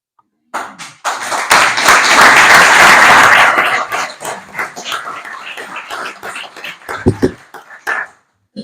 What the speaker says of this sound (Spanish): No aplaudan antes de la intervención, por si acaso.